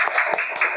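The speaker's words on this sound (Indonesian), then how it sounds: "tepuk tangan buat Diandra" Brief burst of classroom clapping for a pupil in a third-grade lesson, a short ragged patter of hands from the class.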